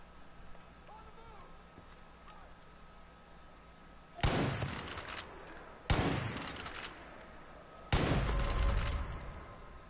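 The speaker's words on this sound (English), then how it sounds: "There, that's me firing." Three loud, close bursts of gunfire from the player's weapon in the game Far Cry 5 break a quiet, humming background, each blast sharp and followed by a short decaying tail.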